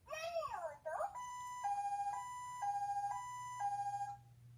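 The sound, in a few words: toy phone ambulance siren sound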